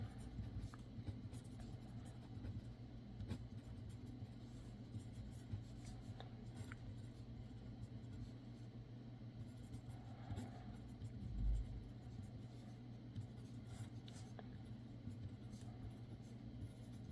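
A pen scratches faintly across a fresh page while working a physics problem, making soft irregular strokes under a low steady background rumble.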